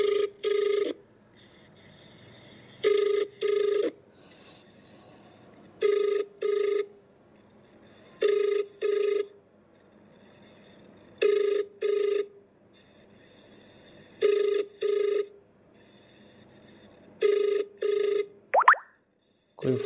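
A telephone rings unanswered, repeating short double bursts of electronic ringing at a steady pace about every three seconds for nearly twenty seconds, loud and close, with a brief swooping tone at the very end.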